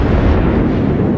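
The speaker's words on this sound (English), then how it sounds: "More shots from the Yamato." Heavy naval gunfire from the battleship Yamato in a warship video game, a single loud, deep rumbling boom that rolls on for over a second with no speech.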